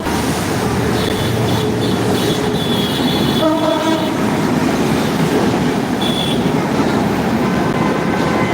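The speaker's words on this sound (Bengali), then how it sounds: "ট্রেন লাইন ট্রেন যাচ্ছে" A train rumbles past close by at night in Dhaka, Bangladesh, wheels clattering steadily, with a brief horn blast partway through and faint squeals.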